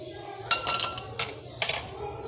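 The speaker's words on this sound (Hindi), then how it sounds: "अब हम इसे ग्लास पे डालेंगे और इसके लिए हमें ग्लास में डालेंगे कुछ आइस" Ice cubes dropped into a glass of cucumber juice, giving three sharp clinks spaced across a couple of seconds, close and fairly loud against a quiet kitchen background.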